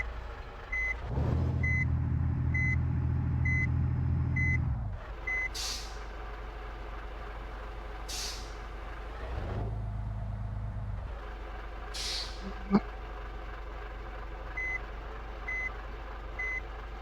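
Truck reversing beeps from a 22-wheel truck in Bus Simulator, driven backward on a narrow hilly mountain road; a steady, evenly spaced series of beeps runs through the clip over a low engine rumble and occasional air-brake hisses.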